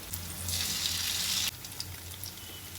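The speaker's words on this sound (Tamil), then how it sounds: "அரைச்ச மசாலாவை ஊற்றிடுவோம்" Ground masala paste pours into a hot pan of sautéed garlic and onion for pepper kuzhambu, giving a loud, close hissing sizzle that stops abruptly, followed by quieter crackling and no talk.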